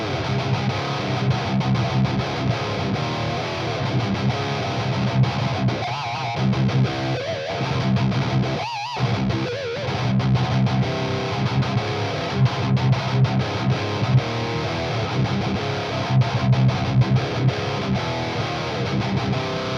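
An electric guitar played through a distorted amp, with sustained gritty chords and notes ringing continuously, loud and close, with a brief break near the middle.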